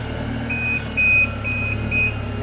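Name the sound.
reversing beep of a Hyundai forklift truck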